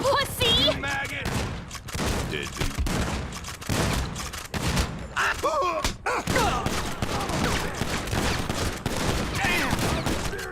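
Rapid bursts of shotgun and automatic gunfire from a deathmatch video game, dense and loud with sharp repeated blasts, while voices talk over the shooting.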